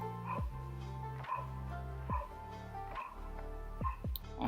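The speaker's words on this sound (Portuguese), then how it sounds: "Ah, cachorro." A dog barks about five times at a steady, unhurried pace, each bark sharp and fairly distinct over a constant background hum, with no talking.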